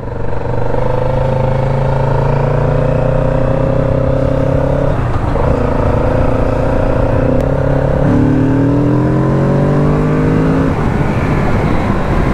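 A Kawasaki Z650RS twin-cylinder motorcycle engine with stock exhaust revs and pulls through the gears, a steady loud drone with pitch rising then dropping at each shift, close by.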